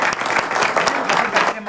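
A studio audience on a live streamed show applauds a guest with brisk, full clapping while a voice speaks loudly over it.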